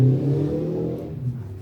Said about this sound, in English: Think they're at Silverstone revving their fucking engines.